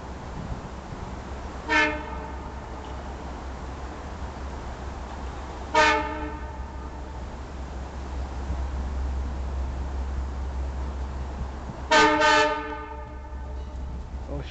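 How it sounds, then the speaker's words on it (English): Train #553 arriving in Mineola sounds its horn in three distinct blasts, the last doubled, carrying clearly over a steady low rumble. "Here behind me, I think there's a train."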